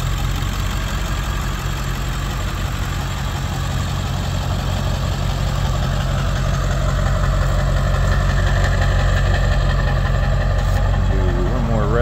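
A lifted black 1999 Ford F250 Lariat 4x4 with a 7.3L diesel engine idles steadily at close range, a deep continuous rumble running throughout the clip, with some talk faintly audible in the background.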